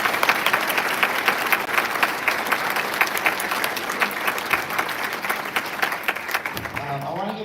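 Sustained applause from a winter concert audience of a community band, dense and steady for most of the stretch, then thinning near the end as a voice comes in under the fading clapping.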